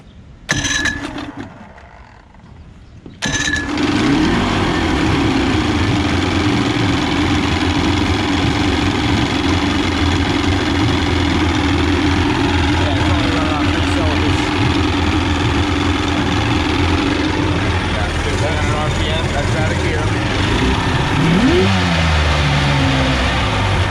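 A 1977 Evinrude 115hp outboard motor with a suspected ignition coil fault cranks and catches, then runs continuously with a loud, steady, slightly uneven drone and a brief rev near the end.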